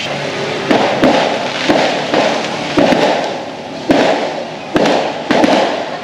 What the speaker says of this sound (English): Firework goes off every night down on the beach.